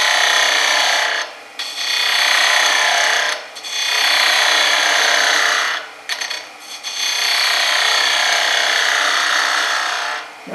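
A wood lathe makes a shear cut on a turned Christmas ornament, a loud, close, continuous rasping hiss. It breaks off briefly three or four times as the tool lifts away, then resumes.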